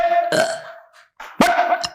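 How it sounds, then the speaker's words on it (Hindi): A woman burps repeatedly and loudly, long drawn-out belches close to a microphone, two separate bursts with a short pause between them. "ये देखो डकारा चल रही, देखो लगा रहा मुंह से, देखो गैस निकल रही"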